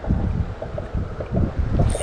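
Wind buffeting a microphone on a fishing bank, loud low rumbling gusts that swell and ease in uneven pulses, with no voices.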